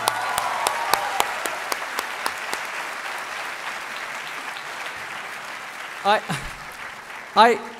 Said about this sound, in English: could we have a huge round of applause for our amazing faculty?